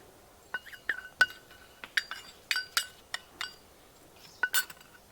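A spoon clinks against a pan while ginger powder is mixed into jaggery syrup over medium heat, giving a series of light, irregular metallic taps close by with no talk.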